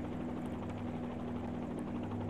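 Rotor drone of a helicopter hovering in a flight simulator game, a continuous buzzing engine tone with a steady low hum, unchanging and alone throughout.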